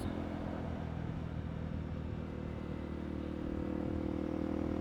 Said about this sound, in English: Finally get to ride the motorcycle